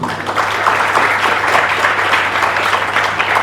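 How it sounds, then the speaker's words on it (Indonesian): Dense, steady applause from an audience at an indoor Balinese Dharma Santi gathering, continuous and fairly loud throughout with no speech. "boleh tepuk tangan nggak teman-teman?"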